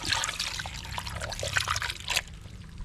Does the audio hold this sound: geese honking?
no